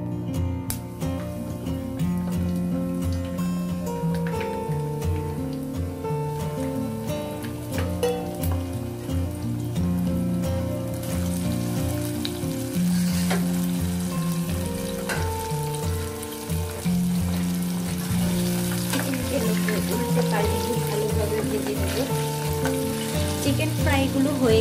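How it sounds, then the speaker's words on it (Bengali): Flour-coated chicken pieces frying in hot oil for crispy fried chicken, a continuous close sizzle and crackle that grows busier midway, heard over a steady background tone without speech. "আমাদের তেল গরম হয়ে গিয়েছে। এখন আমরা চিকেনের পিসগুলো দিয়ে দিব।"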